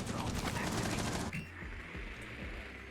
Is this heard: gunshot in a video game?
yes